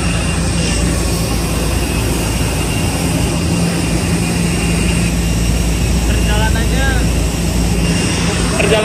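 Steady, loud drone of an airliner's engines in flight on the way to Santorini, heard from inside the cabin as a continuous roar with a faint voice in the background.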